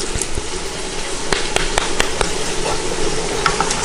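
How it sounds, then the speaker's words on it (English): Seasoned food with salt, paprika and pepper stirred in a pan, a steady close sizzle with scattered spoon scrapes and taps against the metal. "Stir that around."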